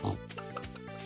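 A pig in the Stardew Valley farming game gives a short, close grunting oink, brief and nasal, with a voice-like quality.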